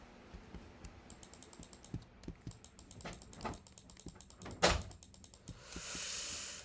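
Quiet, irregular clicking of keys and a mouse, with rapid bursts of tapping and a few louder knocks, ending in a soft hiss.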